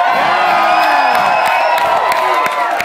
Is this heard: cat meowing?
no